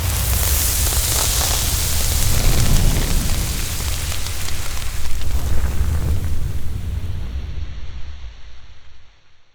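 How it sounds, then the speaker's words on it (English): Onions dropped into hot oil in a pan on a stove, a loud continuous hissing sizzle that crackles steadily for several seconds, close-up, then cuts off abruptly. "Sound effect, sizzling sound, sizzle."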